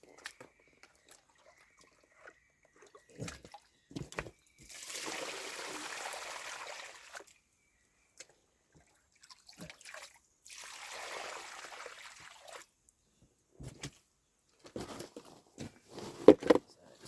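Water pours into a gold pan in two splashy bursts of a few seconds each, separated by scattered knocks and clatters of handling the pan.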